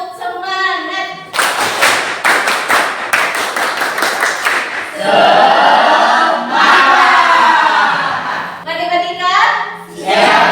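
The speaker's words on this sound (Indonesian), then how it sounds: "Tepuk semangat." A classroom of students performs a rhythmic spirit clap, bursts of loud patterned hand claps and table taps alternating with group chanting and a teacher's voice, close and energetic.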